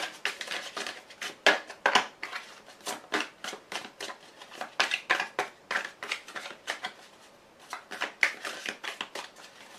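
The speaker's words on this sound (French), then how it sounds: "Je vais vous rajouter une carte de l'oracle bleu." Oracle cards being shuffled by hand, a close run of crisp, papery riffles and slaps in uneven bursts, with no talk over them.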